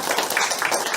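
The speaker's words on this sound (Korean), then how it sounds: "이쯤 되면 박수도 나오더라만" Audience clapping at a special lecture on Korea's crisis and the teachings of Dasan, a brief, dense patter of many hands heard at moderate distance with no voices over it.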